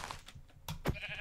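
Minecraft sheep bleat in short, quiet bursts, a couple of brief nasal calls over soft game ambience.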